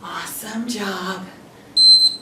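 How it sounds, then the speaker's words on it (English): Speech ends, then a short high electronic beep from a workout interval timer sounds twice in quick succession, clear and fairly loud. "When it beeps, we get 10 seconds of rest."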